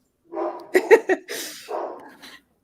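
A dog barking close by in a quiet room, a quick cluster of sharp barks followed by a longer whining, yelping vocalization that trails off.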